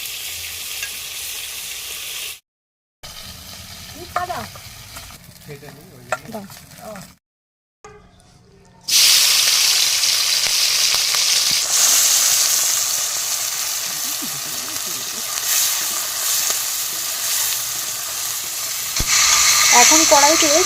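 Small washed puti fish frying in a pan of hot oil, a loud continuous sizzle that swells strongly after a few brief gaps and carries on with faint stirring and scraping sounds.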